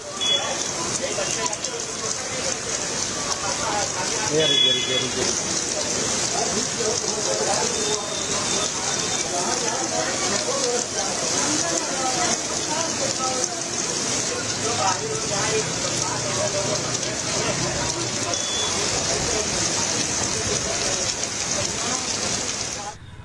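Heavy rain pours down in Delhi during a monsoon downpour, a steady, dense hiss that runs loud and unbroken throughout, with faint indistinct sounds mixed underneath.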